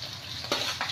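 Crushed mottikayalu (raw beans) hit hot oil with a soft, close sizzle, broken by two brief scraping stirs. No voices.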